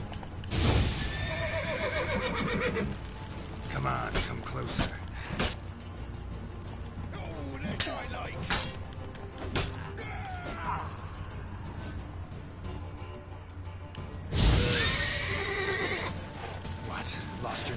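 A horse neighs and whinnies in The Witcher 3: Wild Hunt, with sharp whinnies near the start and again later, surrounded by hoof clops, game effects and background sounds.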